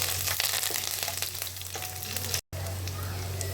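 Dried red chillies, urad dal and curry leaves frying in hot oil for a tempering, a close, continuous crackling sizzle with scattered pops and a short gap of silence near the end.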